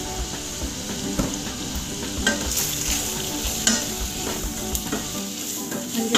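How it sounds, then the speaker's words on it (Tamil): Potato gravy base with turmeric sautéing in a pan, loud steady sizzle under repeated scraping stirs with a spoon, close and continuous, no voices. "மஞ்சள் சேர்த்து நல்லா வதங்கட்டும்."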